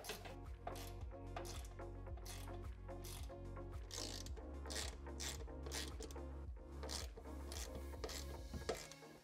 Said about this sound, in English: we'll go ahead and tighten the bolts in the corners first and then the middle